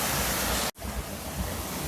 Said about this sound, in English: Some nice water flow here.